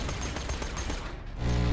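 Rapid shotgun blasts in Borderlands 2, a dense string of loud overlapping shots that ends in a heavier low boom.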